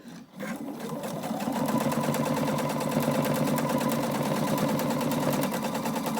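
A sewing machine runs fast and steady, stitching elastic onto a fabric face covering, its rapid mechanical rattle starting after a brief pause and continuing close and even to the end.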